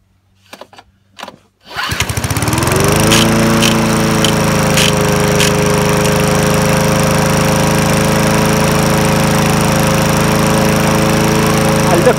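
A classic Honda HR17 lawnmower engine is pull-started: a couple of quick cord pulls, then it catches and settles into a loud, steady close-up idle drone that runs on.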